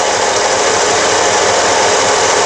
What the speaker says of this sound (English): we're going to go ahead and start the vehicle, and we'll look at the idle speed